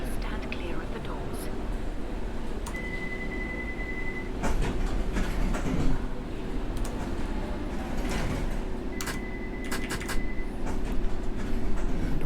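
A London Underground train departing in World of Subways 3, a steady rolling rumble with metallic clicks and clacks from the wheels and brief high whines, with a recorded announcement voice over it.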